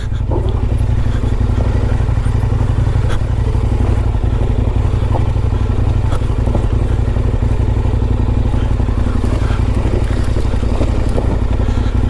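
A heavy 500-pound adventure motorcycle's engine rumbles steadily and loudly while the bike clatters and thumps over rough ground.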